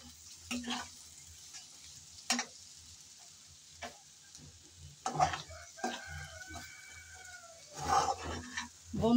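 Potatoes and carrots frying in a pan with little oil, sizzling softly while being stirred, with intermittent scraping and clatter of the spoon against the pan.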